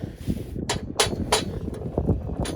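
A hammer taps lightly on the threads of a Honda Civic coilover during installation, giving four or five sharp, close metallic knocks at uneven intervals over a low background rumble.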